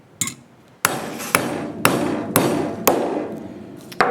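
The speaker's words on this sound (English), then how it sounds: "grab my hammer here, and hammer strikes down" A hammer strikes a circle disc cutter seven times in a steady rhythm, each hit a sharp metallic bang with a short ringing decay, close and loud with no talk.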